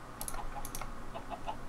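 Chickens clucking in a video game: a few short, soft clucks scattered over a couple of seconds with faint clicky sounds, and no talking.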